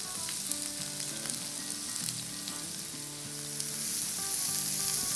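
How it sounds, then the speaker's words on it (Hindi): Onion, bell pepper and green chili sizzling steadily in a hot pan, a dense continuous crackle with occasional louder pops, close and without talk. "2-3 मिनट सौटे करेंगे।"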